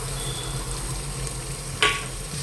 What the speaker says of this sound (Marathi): तेल टाकू द्यायचं त्याच्यात आपण हा लांब कांदा कापू घेतलेला टाकून घेऊया